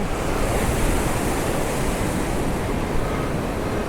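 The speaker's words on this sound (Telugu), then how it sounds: "మాంజీరా నది ప్రవహిస్తుంది" The Manjira River flowing near Edupayala, a dense continuous rushing roar of moving water, loud and steady throughout with no voices over it.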